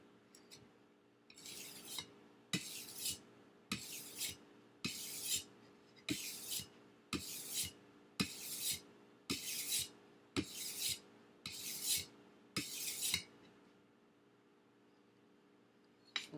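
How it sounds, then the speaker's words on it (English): Steady back-and-forth strokes of a blade across a stone on an Edge Pro sharpening system, about a dozen even rasping passes in a regular rhythm, close and clear, then falling quiet at the end. "I haven't sharpened with this Edge Pro in a long time"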